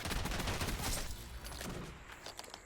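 Dense rapid gunfire from the Call of Duty video game, a continuous loud rattle of overlapping shots with no pauses.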